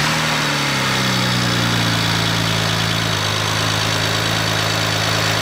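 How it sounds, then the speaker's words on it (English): A BMW 335i fitted with a RamAir intake filter fires up with a brief cranking rise and settles into a loud, steady idle. Its low engine drone and intake whoosh fill the space, with no talking. "gonna start it up, let it run for a little bit, do a few revs for you guys"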